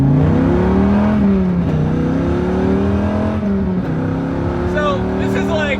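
A car pulls away briskly from a start, engine note climbing steadily through the revs, loud and close, with a voice talking over it throughout.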